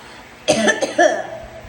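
Two quick, harsh coughs burst out close to the microphone in a short cluster, with no talking around them.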